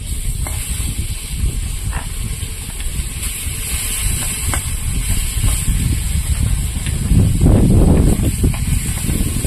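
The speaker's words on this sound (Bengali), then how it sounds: "বাকি মাছগুলো ভেজে নেবো" Constant loud hissing and sputtering of snakehead fish frying in hot oil, a steady wash of noise that swells slightly toward the end; close, no voices.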